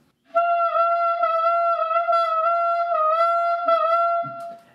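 A clarinet holds one sustained tone with the whole tongue moving during articulation, so the pitch and tone waver slightly. It is close and played alone, with a brief breath at the end.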